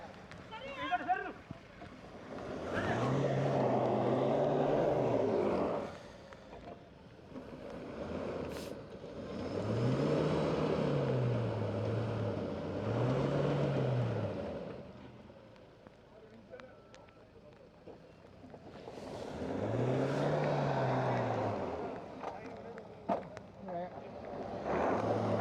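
The engine of a 4x4 off-road vehicle stuck in mud at an off-road challenge revs loudly in three long surging bursts separated by quieter idling, with wind noise and distant voices.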